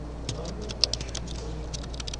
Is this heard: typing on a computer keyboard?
yes